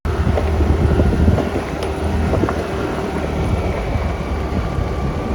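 A motorbike is ridden along at steady speed, its engine drone mixed with heavy wind buffeting across the microphone, continuous and loud for the whole stretch.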